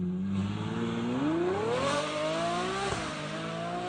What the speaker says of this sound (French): Le moteur essence